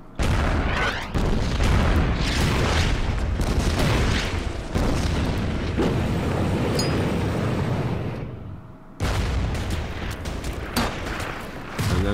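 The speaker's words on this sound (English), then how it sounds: "I will hit them with the artillery." Artillery strike explosions in the World War II strategy game Order of Battle, set along the Irrawaddy River on the Burma Road, a loud continuous barrage of booming blasts that stops abruptly near the end before rumbling resumes.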